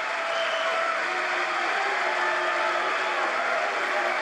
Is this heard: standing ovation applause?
yes